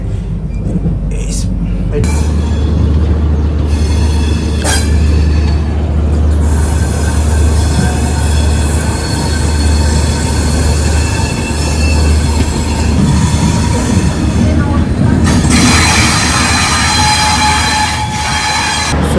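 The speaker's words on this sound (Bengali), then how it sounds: "আমাদের ট্রেন পন্ডিচেরি থেকে 37 কিলোমিটারের যাত্রা কমপ্লিট করে পৌঁছে গেল তামিলনাড়ু রাজ্যের" The Pondicherry–Howrah SF Express 12868, an old coach, runs loudly on its rails, with a constant low rumble, wheel squeal and clattering, and voices in the background.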